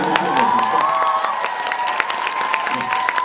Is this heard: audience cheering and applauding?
yes